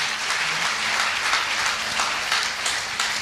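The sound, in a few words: audience applause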